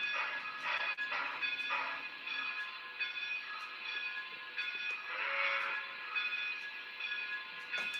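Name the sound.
N scale model train running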